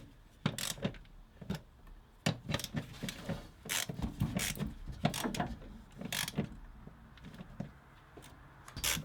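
Bolts and a metal mounting plate are fitted back onto a 1992 Renault Trafic van: ratcheting clicks, sharp metallic knocks and scraping in irregular bursts, close and moderately quiet.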